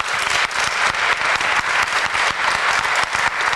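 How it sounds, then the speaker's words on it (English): An audience applauds a guest at a 2007 talk event, with dense, sustained clapping that swells and dips slightly in steady bursts, loud and close, with no voices over it. "Nice round of applause for Dr. Gruey."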